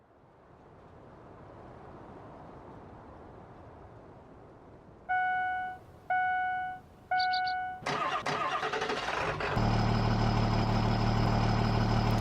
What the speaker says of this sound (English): Sounds like the typical farming simulator engine for trucks.